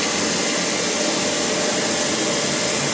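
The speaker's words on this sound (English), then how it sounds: "There's not a lot you can do on a grinder video other than run the machine and show you how well it sounds and performs." A DoAll G10 surface grinder with an 8 x 24 inch permanent magnetic chuck runs steadily, giving off a loud continuous broadband whir and hiss with no pauses and no voices.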